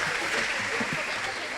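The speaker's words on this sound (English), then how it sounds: "Give them one more round of applause," Concert audience applauding a small chamber orchestra at an Easter music concert, a steady wash of clapping heard briefly with a voice over it.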